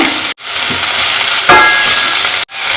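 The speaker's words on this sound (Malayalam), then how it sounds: "ലോ ഫ്ലെയിമിൽ വെച്ചിട്ട് പൊടികളൊന്ന് കരിഞ്ഞ പോലെ ഒന്നൊന്ന് വഴറ്റിയെടുക്കാം" Spice powders sautéing in oil over a low flame for a Kerala-style okra and coconut curry, a loud, close, continuous hissing sizzle interrupted by two brief silent breaks.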